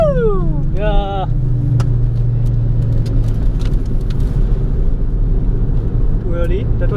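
A car at speed on the Zandvoort race track, engine droning steadily and loudly throughout with a brief revving rise, people talking over it inside the cabin.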